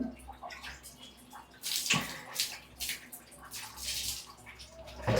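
Water splashes and pours in uneven bursts as a pet is bathed, fairly soft and close, with intermittent sloshing and drips.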